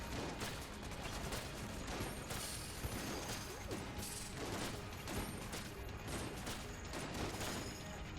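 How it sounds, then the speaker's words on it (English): Rapid, continuous weapon fire from a rocket-firing gun in Enter the Gungeon (Advanced Gungeons & Draguns), a dense, steady barrage with crashes and impacts, fairly quiet overall with no pauses. "It's a rocket with pretty good damage that has a really, really nice fire rate."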